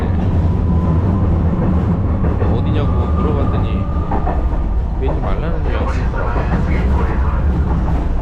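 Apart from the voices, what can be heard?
old train rattling while riding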